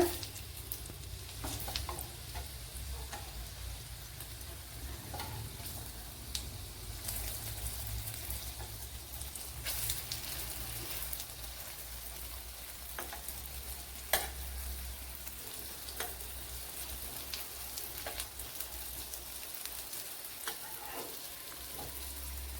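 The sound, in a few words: frying and flipping chapathi sweet pieces in a pan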